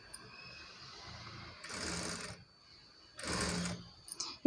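A sewing machine stitches invisible piping onto a saree-cloth blouse back in two short bursts of steady mechanical whirring, separated by a pause, at moderate volume close by.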